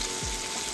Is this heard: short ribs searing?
yes